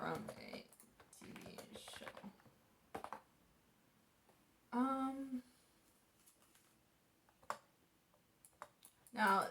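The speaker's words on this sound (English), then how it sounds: "If you hear typing and clacking in the background," Typing and clacking on a computer keyboard at home, quiet bursts of clicks scattered between short stretches of speech, some faint and some close and sharp.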